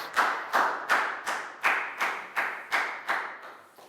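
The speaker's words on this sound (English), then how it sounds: "High five and a big round of applause for Dan, guys." Classroom students clap in unison, nine sharp synchronized claps at an even, slightly slowing beat, each ringing briefly in the room, fairly soft overall.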